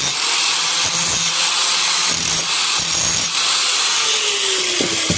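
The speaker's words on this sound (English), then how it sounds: "I took a couple of passes at this little piece with the grinder, just to refine the shape a little bit" An angle grinder shapes a small steel floor patch piece for a 1956 Studebaker Hawk, a loud, continuous, harsh hiss with slight wavering as it passes over the metal.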